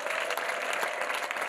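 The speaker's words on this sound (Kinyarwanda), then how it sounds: "ongera ukomera Imana amashyi." A church congregation claps together in steady, dense applause, loud and close, filling the whole moment without a break.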